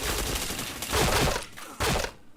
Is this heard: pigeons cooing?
no